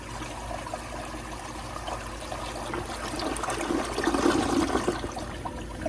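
A restored 1958 Standard Cadet toilet flushes with its handle held down, water rushing and swirling at close range, building louder toward the end.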